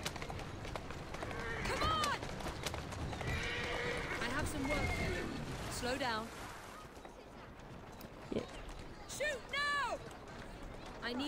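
Hooves clip-clop rapidly as a horse gallops through Victorian London in Assassin's Creed Syndicate, with neighs and whinnies mixed in, while someone talks over the game sounds.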